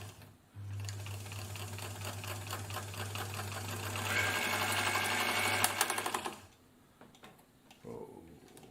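A vintage Elna Supermatic sewing machine running steadily with a low motor hum and fast ticking needle action, speeding up slightly before stopping, followed by a few light mechanical clicks.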